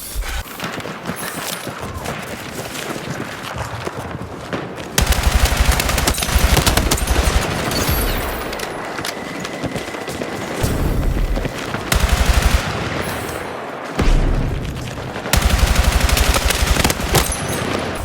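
In Battlefield 6, a B36A4 assault rifle fires in sustained automatic bursts, loud and close, with crisp cracking reports overlapping distant gunfire and combat noise throughout, pausing briefly between strings of shots.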